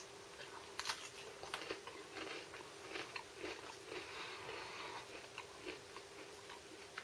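Dry, crisp crunching and biting of an MRE cracker biscuit from a U.S. ration menu, close and fairly quiet, with irregular crackly chews.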